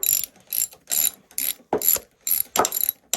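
A hand ratchet tightens bolts on the front end of a Yamaha YZ85 dirt bike in a garage. Close, crisp clicking comes in about eight quick strokes, each with a short pause between.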